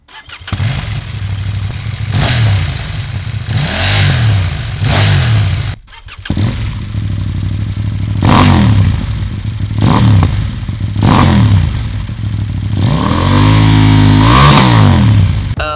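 A KTM 790 parallel twin motorcycle engine idles loudly up close, then revs in a series of sharp throttle blips, with a brief cut near the middle before it picks up again and rises in longer revs toward the end.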